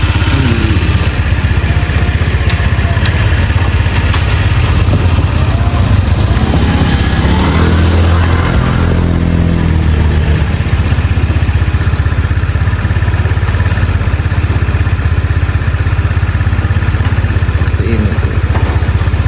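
A motorcycle engine idles steadily on a narrow village path only wide enough for one bike, a constant low rumble with no speech and a brief louder passage midway.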